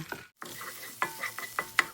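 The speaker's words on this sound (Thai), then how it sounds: "ใส่พริกแกงลงไป ผัดจนมีกลิ่นหอมเลยค่ะ" Close sizzling of Thai red curry paste frying in about two tablespoons of hot oil, with a spatula scraping and clacking against the pan in short, irregular strokes.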